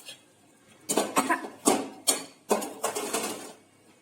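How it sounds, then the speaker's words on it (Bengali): A series of about six harsh, close coughs from fried chili fumes in quick bursts, with brief pauses between them and no speech. "খুব কাশি হচ্ছে"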